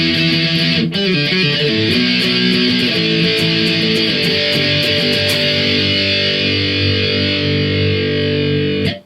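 Heavily distorted electric guitar plays an album's intro riff, starting with choppy chord and note figures and moving into sustained, ringing power chords, loud and continuous with no talking.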